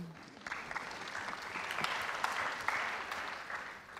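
Conference audience applauding after a talk on shared decision-making, a steady mid-distance wash of clapping that swells slightly in the middle and holds throughout.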